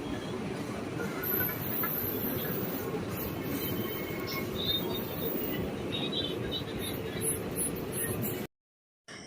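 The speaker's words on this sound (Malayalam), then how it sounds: "M G R Chennai central super A C express ആണ് ഈ പോകുന്നത്" An MGR Chennai Central Super AC Express runs fast along the Thiruvananthapuram route, giving a steady, loud rumble of wheels and carriages with faint squeals on top before the sound cuts off abruptly near the end.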